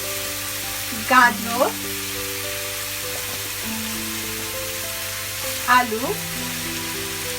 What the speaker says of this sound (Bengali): ক্যাপসিকাম দিয়ে ভালো করে মিশিয়ে নিয়ে ভাজতে থাকবো।